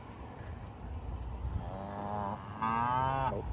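A cow at a state fair petting zoo lets out a loud, drawn-out moo that rises into a second, stronger bellow, heard close and on its own.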